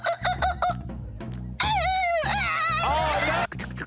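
Short clucking noises give way to a long, warbling crow, a person mimicking a chicken, loud and close.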